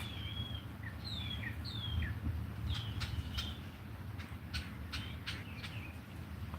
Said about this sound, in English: those are like the nightingales. And then the other heavier call is the blue jays.